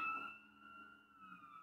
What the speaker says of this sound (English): Sorry for the sirens in the background for 1 second.